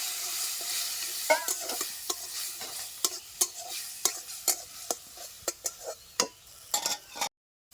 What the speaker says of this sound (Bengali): একটু জল দিয়ে মশলাটাকে আমি ভালো করে কষিয়ে নেব।